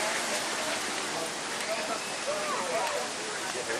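Steady rain falls outdoors in a dense, even hiss that fills the whole clip, with people faintly talking underneath.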